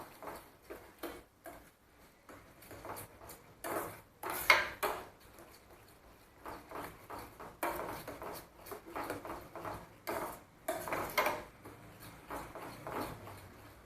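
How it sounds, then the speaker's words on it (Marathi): Spoon clinking and scraping against a pan as yogurt is stirred into an egg curry over low heat, with irregular taps and scrapes close by and quiet stretches between them. "दहीसुद्धा चांगलं ह्याच्यामध्ये घालून मिक्स करून घेऊया."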